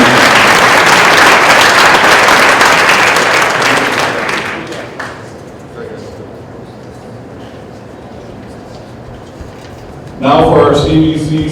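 A crowd at a school winter sports awards ceremony gives a loud round of applause that holds for about four seconds, then dies away into quieter room noise before a voice resumes.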